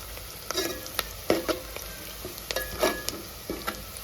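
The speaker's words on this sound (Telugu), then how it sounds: "ఉల్లిగడ్డ బాగా ఫ్రై అయింది." Onion and curry leaves sizzling and frying in an oil-filled pan for goat head curry, a steady close crackle with occasional stir clinks and louder pops.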